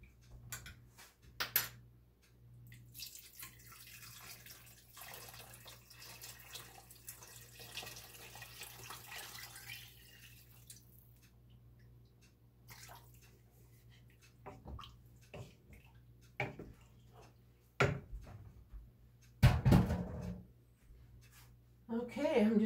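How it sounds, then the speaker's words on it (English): Chicken broth made from bouillon is poured into a soup pot as a steady, faint liquid splash that runs for several seconds, with a few clinks and knocks later, and a person talks at points. "Pour this in the soup."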